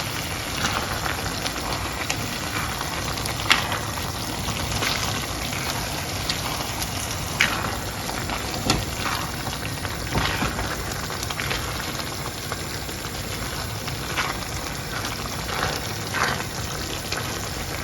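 Ghanaian egusi stew sizzles and bubbles in a pot as it is stirred, a continuous crackling hiss punctuated by occasional louder clicks and knocks from the spoon against the pot.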